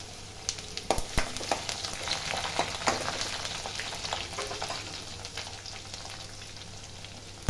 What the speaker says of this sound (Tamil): தோலோட ஒரு 4 பல்லு பூண்டு தட்டி போட்டுக்கலாம்